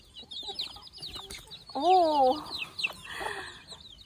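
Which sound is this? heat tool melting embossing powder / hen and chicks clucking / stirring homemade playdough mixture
hen and chicks clucking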